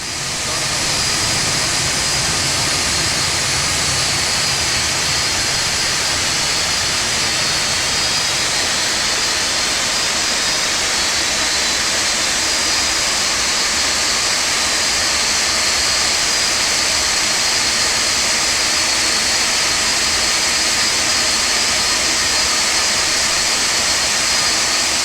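Four CF6-50 jet engines on a Boeing 747-200 in the X-Plane 11 flight simulator run at a steady idle, a loud continuous roar with a high whine on top that holds without a break.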